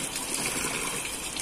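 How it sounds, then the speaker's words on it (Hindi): Water gushing and splashing continuously as a small amount is poured by hand onto a child's bleeding nose outdoors on a picnic day, a steady close rush with no talk. "वो नोज में थोड़ा पानी डालो"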